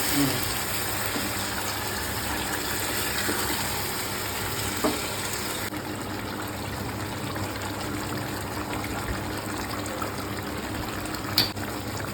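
Chicken korma cooking in a pan, a continuous bubbling, hissing simmer with occasional light clinks of stirring, steady and fairly close, with no speech.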